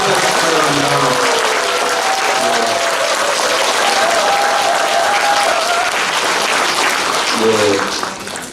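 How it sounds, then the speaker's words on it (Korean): Sustained applause from a large gathering at a Buddhist temple's year-end thanksgiving event, a steady loud wash of clapping lasting about eight seconds with brief voices mixed in near the end. "큰 박수로 한번"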